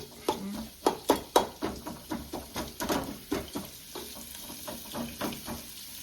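Vermicelli upma ingredients fry in a pan, giving a steady sizzle broken by a run of sharp clattering stir strokes and scrapes near the start, then softer continuous frying.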